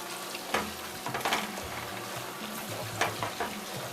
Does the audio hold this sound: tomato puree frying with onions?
yes